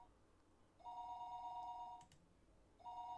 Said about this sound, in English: At that moment, the phone downstairs rang.